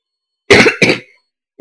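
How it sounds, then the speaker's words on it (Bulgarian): Two sharp coughs in quick succession, loud and close, the second shorter and fading, followed by silence before another cough begins at the end. "Кашля."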